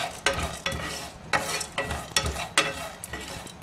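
Green chilies, cashews, poppy seeds and spices roasting in a pan, with repeated stirring scrapes in an uneven rhythm over a soft sizzle, close and clear, with no talk.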